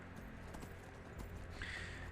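Horse hooves clip-clopping in the Skyrim video game, a steady patter of footfalls under constant background game ambience with a tonal sound rising near the end.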